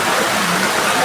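Heavy downpour outdoors at a picnic, a dense, steady broadband hiss of rain lasting the whole second with no letup, close and loud.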